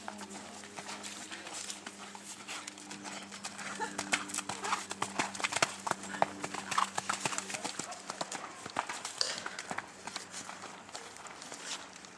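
Horse hooves clip-clopping in a steady walking rhythm, close by, with people talking over them.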